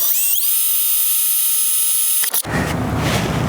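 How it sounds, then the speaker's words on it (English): A cordless power drill whines at high pitch as it bores a small, shallow pilot hole in a Super Pacific Switchback X1 camper shell, rising briefly as it spins up, then cutting off into rougher close-up handling noise. "now what we're going to do is drill the pilot hole."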